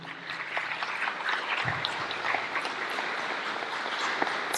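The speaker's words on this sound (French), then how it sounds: "Non, c'est moi qui voudrais vous applaudir ici." An audience at a public meeting applauds, a steady sustained patter of many hands clapping at moderate level, with a dull thump partway through and no speech over it.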